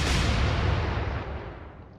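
A single heavy naval gun blast in the game Atlantic Fleet, a loud booming report whose rumble fades away over two seconds.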